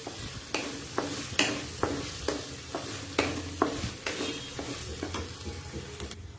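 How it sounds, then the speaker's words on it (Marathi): Diced potatoes sauté in a pan, with a soft sizzle under a regular rhythm of a dozen or so sharp spoon scrapes and taps against the pan, close and moderately loud. "बटाटे पण चांगले परतवून घ्यायचे"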